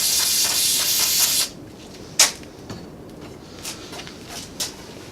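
Carb cleaner sprayed from an aerosol can onto a rag, one steady hiss lasting about a second and a half, followed by quieter handling clicks and rustles.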